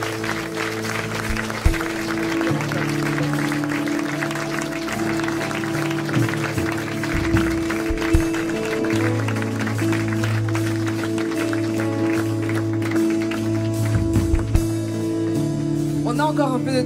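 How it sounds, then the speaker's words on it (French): A church congregation claps in sustained, even applause over steady organ or keyboard chords, with a few louder claps and scattered voices mixed in throughout. "Est-ce qu'on peut applaudir ce que le Seigneur fait au milieu?"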